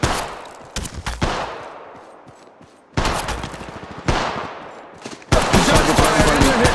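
Bursts of Apex Legends gunfire, close and loud, crack out in rapid fusillades with pauses between volleys, ending in a sustained dense stretch of automatic fire.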